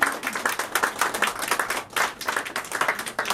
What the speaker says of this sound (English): let's give Food Matters a round, very, very, very well deserved round of applause